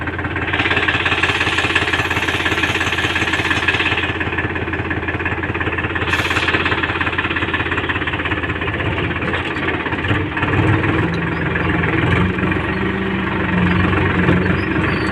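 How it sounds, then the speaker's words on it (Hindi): A Powertrac tractor engine runs steadily and loudly throughout, a continuous rough, knocking drone with no talk over it. "अब ट्रैक्टर लेकर अपन जा रहे हैं घर"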